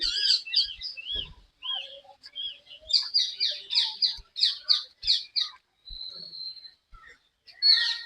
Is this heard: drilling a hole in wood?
no